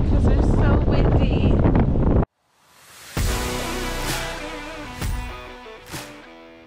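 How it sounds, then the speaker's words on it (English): Strong, blustery wind buffets the microphone on a windy beach, a loud roar that cuts out abruptly, then returns in gusty surges with sharp bursts. "Because it's so windy."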